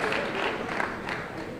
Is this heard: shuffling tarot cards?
no